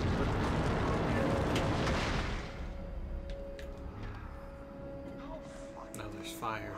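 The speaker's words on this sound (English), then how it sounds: "Now there's fire for some reason." Fire roaring loudly in the video game Until Dawn, a dense broadband rush that dies down after about two seconds into a steadier crackling burn, with a faint tonal hum beneath.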